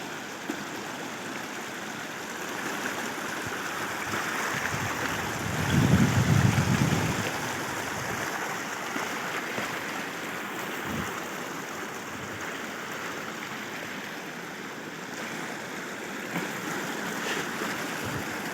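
Glacier meltwater runs down a mountain stream in a steady, moderately faint rushing flow, with a brief louder low rumble partway through and no talk.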